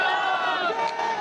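Crowd at a broadcast of a temple inauguration for Ram in Ayodhya bursting into emotional shouts and cheers, a loud sustained roar of many voices.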